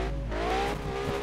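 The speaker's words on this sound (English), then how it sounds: "I got a little bit of the e-brake going" A car drifting with the e-brake pulled in Roblox Drift Paradise, driven on a Logitech G29 steering wheel, giving a brief steady engine drone with a tonal tire whine and no voices.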